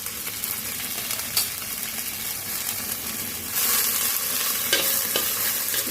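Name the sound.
brahmi greens frying in ghee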